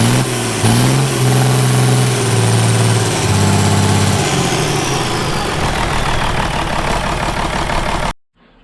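A Ford truck with a swapped-in turbo diesel engine idles on its first run, a loud, steady low rumble with a brief rise and fall in pitch early on before settling, then cutting off abruptly at the end.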